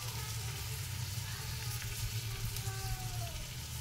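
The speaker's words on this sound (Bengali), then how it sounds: "কড়াইটা বসিয়ে দিয়েছি, গরম হয়ে গেছে। এবার আমি দিয়ে দেবো তেল।" Oil sizzles steadily in a hot wok for prawn curry, a dense continuous crackling hiss with a low hum beneath, without speech.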